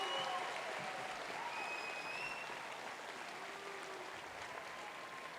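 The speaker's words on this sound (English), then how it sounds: "Please give these scholarship recipients and businesses a round of applause." Applause at a graduation ceremony for scholarship recipients and businesses, a soft, distant-sounding wash of clapping from a large crowd in a big hall, steady and fading slightly toward the end.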